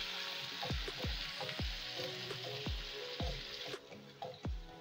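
Garlic ginger paste fries in a pan with a steady, faint sizzle, punctuated by repeated clinks and scrapes of stirring, close and with no talking.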